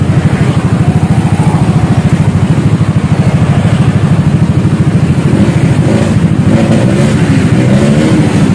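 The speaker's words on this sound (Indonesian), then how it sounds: "Untuk idle-nya suaranya setelah dirobah kayak gini, Bro." A modified motorcycle engine idles loud and close with a fast, even, throbbing pulse that holds steady throughout.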